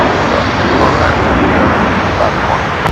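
A fixed-wing airliner at Seattle-Tacoma International Airport roars steadily on its takeoff roll down runway 34 right, a loud, unbroken engine rumble filling the scene.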